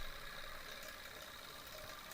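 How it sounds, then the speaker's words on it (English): A small steam engine drives a power plant running under load while it powers a computer, giving a faint, steady mechanical chug and whir with no voices. "The engine slows a little bit when it comes under load doing the computation."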